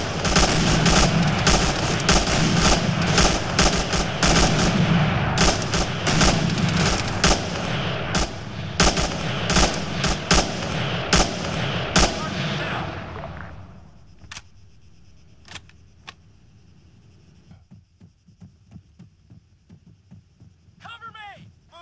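Rapid gunfire from the military shooter ArmA 3, dense bursts and single shots that dominate at first, then thin to scattered distant cracks over quieter background, with voices calling out orders throughout.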